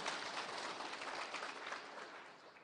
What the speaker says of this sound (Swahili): Tumpigie makofi tena.